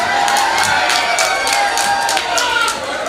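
Clapping and cheering from an audience at a live stage comedy show in Rongamati, a dense crowd noise held loud and steady throughout with bursts of applause.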